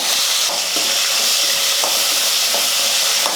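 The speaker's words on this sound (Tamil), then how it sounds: "வெங்காயம் வந்து ஒரு நிமிஷத்துக்கு நல்லா வதங்கட்டும்" Small shallots sauté in hot oil with mustard seeds and curry leaves, giving a loud, continuous close sizzle with faint scraping stirs and occasional light clicks of a spoon.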